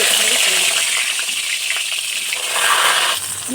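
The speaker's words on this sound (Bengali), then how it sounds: "কড়াইতে তেল দিয়ে দিয়েছি এবার আমি বেগুনগুলো ছেড়ে দেবো আস্তে আস্তে" Eggplant slices sizzle in hot oil in a wok, a loud, bright, steady frying hiss that shifts slightly as pieces settle, with no talking over it.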